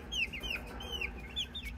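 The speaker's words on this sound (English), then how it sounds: "Happy little chickens." Flock of young pullet hens feeding on papaya, giving soft rising clucks and chirps close by over a steady low background hum.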